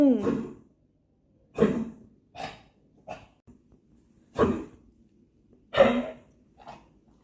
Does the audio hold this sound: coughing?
yes